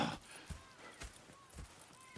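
Horses in Red Dead Redemption 2 clop along with hooves striking in an even, unhurried rhythm about twice a second, faint and somewhat distant.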